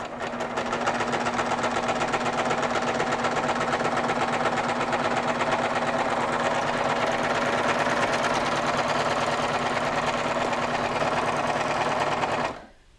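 Serger overlocking a garment seam, running loud and steady with a fast rhythmic chatter for about twelve seconds before stopping abruptly.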